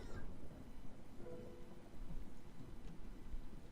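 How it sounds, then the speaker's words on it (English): Thunder rumbling over steady rain in the video game Tales of Xillia 2, a continuous low roar with a heavier swell midway, no talking. "Man, this thunder's pretty intense, huh?"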